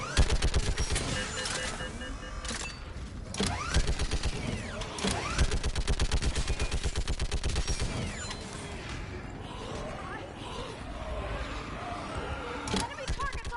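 Rapid bursts of gunfire from a Mass Effect 3 firefight, dense overlapping volleys and automatic fire that keep up steadily throughout, loud and close, with brief pauses and some mechanical clatter.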